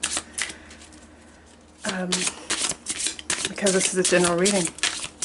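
A tarot deck is shuffled and cards are pulled, giving crisp rapid riffling bursts and flicks close by, broken by a quiet pause, with a voice talking over the later part.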